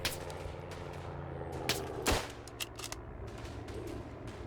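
Rifle fire in the World War I shooter Verdun, with sharp cracks and distant scattered shots over a constant battlefield rumble, including one louder close shot near the middle.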